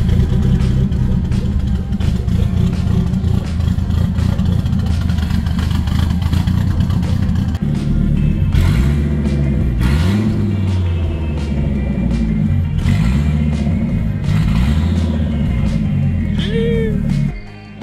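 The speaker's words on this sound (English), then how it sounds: "so now we got the car started, make sure it runs" A Volvo V70R idles steadily after starting, a continuous loud engine hum with occasional revs rising and falling near the end, close by.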